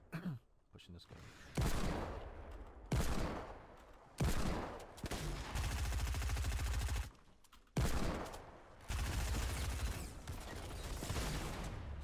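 Bursts of heavy assault rifle fire from the Heavy AR in Fortnite: Battle Royale, loud sustained volleys broken by short pauses, with a few gaps of quieter game sounds between strings of shots.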